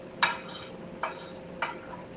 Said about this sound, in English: Stir these on up.